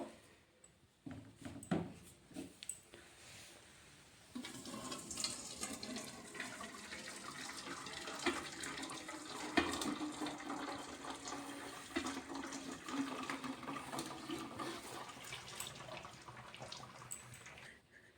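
Running water in a kitchen sink as boiled chow mein drains and vegetables are rinsed, a few splashes at first, then a continuous close rush of flowing water that stays fairly level, no talking.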